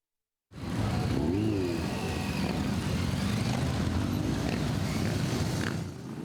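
A slow column of motorcycles rides loudly through the streets of Uzhhorod during a biker season opening, producing a continuous, close engine roar with rising revs that stays steady from start to finish.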